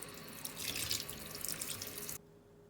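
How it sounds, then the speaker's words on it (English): Tap water runs steadily over herring fish being rinsed in a sink, a full close splashing rush that cuts off abruptly near the end, leaving only faint room hiss. "just rinse them over, just to get any liquid what's drained off them off"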